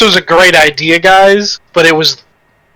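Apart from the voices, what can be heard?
No everyday noise stands out behind the speech.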